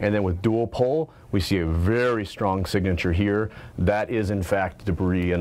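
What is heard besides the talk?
No everyday noise stands out behind the speech.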